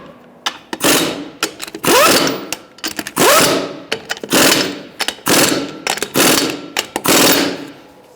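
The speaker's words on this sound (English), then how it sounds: "Using a 21mm socket, we're going to tighten up in a crisscross manner." Socket wrench tightening the wheel lug nuts in a crisscross pattern on a 2012-2017 Hyundai Accent during rear brake hose work, heard as repeated loud bursts of rapid ratcheting clicks with short pauses between each nut.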